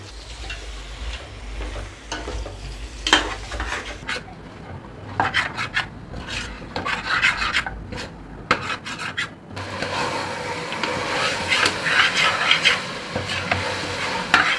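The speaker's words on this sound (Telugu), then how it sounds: "ఈ ఉల్లిగడ్డల మిశ్రమం మటన్కి బాగా కలిసేదాకా కలపాలి" Mutton is stirred with an onion and ginger mixture in a frying pan, giving a steady scraping, rasping churn over a low sizzle that builds louder toward the end.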